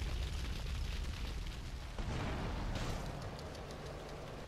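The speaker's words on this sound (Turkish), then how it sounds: "Lan oğlum araba yandı ya." A car burning and exploding in GTA Vice City Definitive Edition gives a dense, rumbling roar of blast and fire that stays steady, with a sharper burst partway through.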